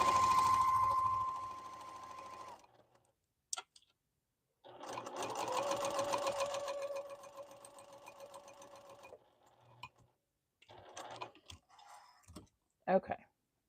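A 2010Q sewing machine runs straight stitches in two bursts, a long steady whir at the start and another in the middle, followed by scattered clicks and short mechanical taps.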